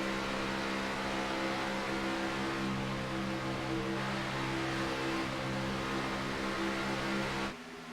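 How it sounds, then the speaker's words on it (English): Race car engine in a sim racing oval race at Daytona International Speedway, a continuous droning whine with slight rises and dips as the throttle comes off and on, steady and moderately loud before cutting down near the end. "if you hear closely the RPMs, you can actually hear he's off throttle and he's on throttle at sometimes"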